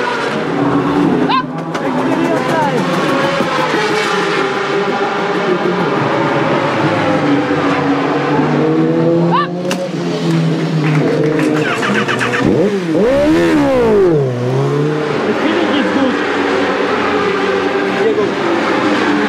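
Racing motorcycle of team RAC 41 in Super Stock at the Bol d'Or endurance race, a continuous loud engine roar with rising and falling revs and a sharp pass-by sweep near the end, with people talking over it.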